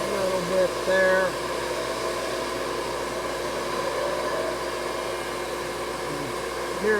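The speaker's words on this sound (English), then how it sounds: "You hear that debarker really grab when there's a knob sticking out there." Sawmill debarker working small logs, a steady loud mechanical roar with grinding, whining tones that briefly rise as it grabs a knob on the log, continuous throughout without speech.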